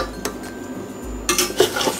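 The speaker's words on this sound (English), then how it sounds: "we're just going to get our lifter underneath it and turn it over" A metal lifter scrapes and clanks against a pan as it slides under a Chinese-style chicken omelette and turns it over, with a soft scrape first and then a louder burst of metallic clatter near the end.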